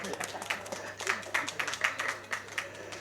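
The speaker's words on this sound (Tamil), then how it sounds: "கைத்தட்ட அந்த 2 பேருக்கு நன்றி" Scattered audience clapping at a film trailer launch event, a thin patter of a few hands, fairly faint in a large room.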